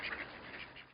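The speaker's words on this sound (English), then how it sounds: "At sunrise, the gray duckling was woken by loud quacking." Wild ducks on a marsh quack in quick, overlapping bursts, a faint flurry of nasal calls at a modest distance.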